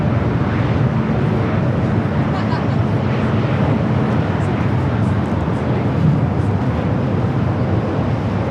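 Airliner arriving at LAX, Los Angeles, on a flight from SFO, a loud, steady jet roar filling the air without break while a person talks over it.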